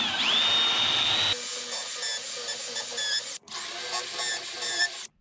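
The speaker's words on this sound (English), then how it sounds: "drilling some pocket holes onto the outside of the side panels" A power drill bores pocket holes into the outside of plywood cabinet side panels in a woodworking shop, with a steady rising whine that drops to a lower grinding hum, briefly stops, then resumes close and loud.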